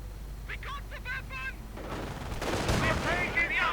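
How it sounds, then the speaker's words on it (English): Rifle and machine-gun fire from Grenadiers in a WWII strategy video game battle. Rapid bursts crackle at close range, then heavier rumbling fire builds, with game voice lines and a commentator talking over it. "Ralphman getting gunned down by the Grenadiers."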